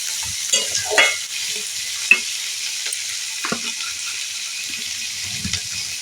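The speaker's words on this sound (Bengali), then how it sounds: "এবার পেঁয়াজটা আমি বেশ খানিক্ষণ নাড়তে থাকবো" Chopped onion frying in oil in a pan while being stirred, a soft steady sizzle with intermittent scraping and clattering knocks from the stirring utensil.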